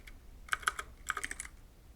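Typing on a computer keyboard, two quick bursts of crisp, close key clicks with a short pause between them, alone and fairly soft.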